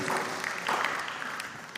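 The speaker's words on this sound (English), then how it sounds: "kindly give all our contestants a round of applause" Applause for school quiz contestants at an academy brain competition, a dense, steady wash of clapping lasting under two seconds at moderate loudness.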